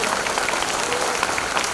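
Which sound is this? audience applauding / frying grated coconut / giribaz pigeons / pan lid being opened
audience applauding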